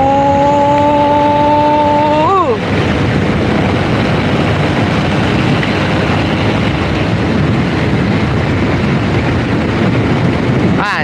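A Honda Karisma motorcycle with little power rides on a narrow village road, its engine revving up loudly and then droning steadily with rough wind buffeting close to the rider.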